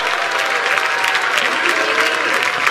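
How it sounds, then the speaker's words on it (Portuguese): A church congregation claps loudly and steadily for a few seconds, a dense, continuous wave of applause from a large crowd, with no voices standing out. "Dê a salva de palmas ao Senhor."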